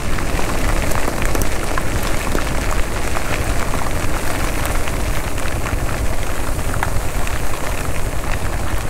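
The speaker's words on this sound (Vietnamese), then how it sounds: "Quá trời mưa cô chú ơi." Heavy rain pours down in the center of Can Tho city, a loud, dense, steady hiss of drops on surfaces that stays constant throughout, with no voices.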